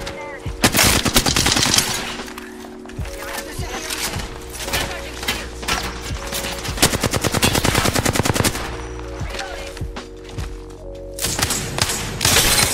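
Automatic weapon fire in the Apex Legends video game: repeated rapid bursts of loud, sharp shots, several volleys with short pauses, over a steady game tone, with a player talking between bursts.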